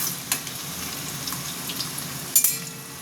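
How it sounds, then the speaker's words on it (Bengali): Potato pieces frying in oil for a Bengali kadaishuti and dal dhoka curry give a steady, soft sizzle, fairly quiet and continuous, with a couple of sharper crackles and pops. "আলুটা আমি লাল করে ভেজে নেব"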